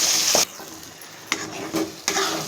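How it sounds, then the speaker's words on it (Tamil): Red chillies and curry leaves are stirred through hot oil as a tempering for a village-style green turkey berry chutney, giving a steady sizzle broken by a few sharp scraping strokes of the spoon, close and with no talk. "நல்லா கிளறி விட்டுக்குங்க."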